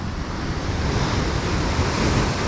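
Ocean waves surge and crash onto the shore at a fishing spot, a loud continuous roar mixed with wind buffeting the microphone, with no voices.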